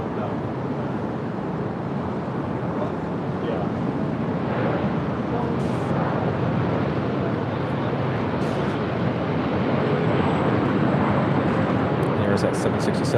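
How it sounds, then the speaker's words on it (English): A Boeing 767 heavy jet arriving at LAX sends a broad, steady rushing roar across the whole stretch, sustained and fairly loud with wind buffeting, while people talk over it. "There's that 767."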